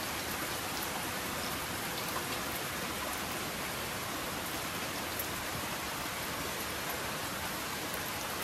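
Steady, dense rain pours down without a break, a close, even hiss of drops striking surfaces, with no voices.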